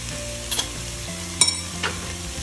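Sticky rice with a spoonful of sugar stirred in a pan, a spoon scraping and clacking a few times in short bursts over a steady low sizzle, close and fairly quiet, no talking.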